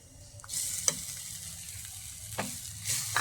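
Chopped mango with chilli is stirred in a frying pan for Kerala mango rasam: a soft, low sizzle broken by a few distinct scraping strokes of the spoon.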